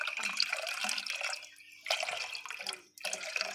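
Tap water pours steadily into a pipe for fish breeding, a near, continuous gushing splash with a brief break partway through.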